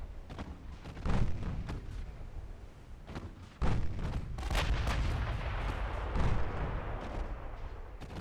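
Warship main guns fire in the naval combat game Ultimate Admiral Dreadnoughts: three heavy booming salvos spaced a few seconds apart, each with a deep rolling rumble over constant battle noise and scattered distant shots.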